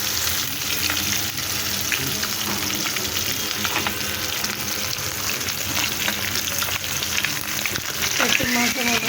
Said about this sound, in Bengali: তো মাছগুলো আমার ভাজা হয়ে গেছে, এখন আমি একে একে মাছগুলো উঠিয়ে নেবো সুন্দর করে।